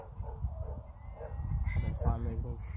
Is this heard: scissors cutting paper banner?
no